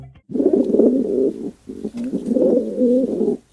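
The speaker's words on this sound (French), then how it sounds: "Le pigeon biset, celui que tout le monde connaît." A rock pigeon coos close up in two long, throaty, rolling phrases separated by a brief pause, with no other sound.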